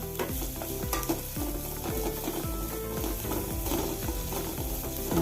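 Ginger and grated coconut are stirred in a hot pan for drumstick leaf chutney, with steady rhythmic scraping strokes repeating about twice a second over a soft frying sizzle.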